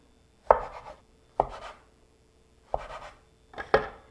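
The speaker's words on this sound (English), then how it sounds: "So now we're going to cut this into 1-inch slices" A knife slices rolled bacon sticky bun scone dough into one-inch pieces, four distinct soft cuts each landing with a dull thud and short scrape, spaced about a second apart, close and quiet with no talk.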